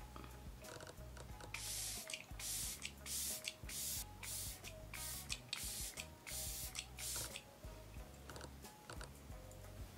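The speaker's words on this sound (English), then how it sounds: "I'm going to quickly spray my face with the Glow Recipe Watermelon Glow Ultra Fine Mist" Several short, soft hissing bursts of Glow Recipe Watermelon Glow Ultra Fine Mist facial spray, quiet pumps spaced a second or so apart in an otherwise still room.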